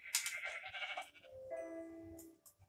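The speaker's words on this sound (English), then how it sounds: "There's sheep right here." A sheep in a video game gives a few wavering, nasal bleats in quick succession, fairly close and clear, with no speech over them.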